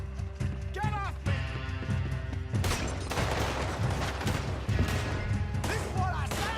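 Gunfire in the video game Red Dead Redemption 2, loud overlapping shots and clatter in a chaotic fight, with shouting voices and harness or mechanical rattles running throughout.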